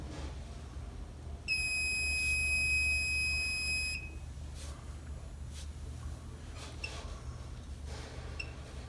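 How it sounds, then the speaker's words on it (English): The high oil alarm on an oil water separator sounds as one shrill, continuous electronic tone of roughly two and a half seconds, set against a low, steady mechanical drone with scattered faint clicks afterward. "you will get the high oil alarm"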